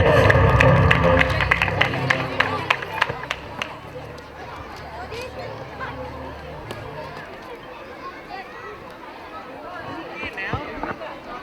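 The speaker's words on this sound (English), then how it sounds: "Everyone give a huge round of applause for our winners" Audience applause for the young winners at a school's annual sports day, loud and dense at first, then thinning out beneath a crowd's murmur and an announcer's voice.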